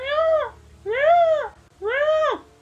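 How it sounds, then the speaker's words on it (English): Peacocks give three loud, drawn-out wailing calls in quick succession, each rising then falling, with a low hum underneath and no talking. "I can hear peacocks, by the way."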